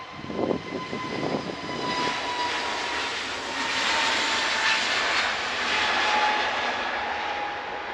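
Airliner in Neo livery, jet engines giving a steady moderate roar with a faint tonal whine, a brief rumbling burst near the start, then even and continuous with no talk.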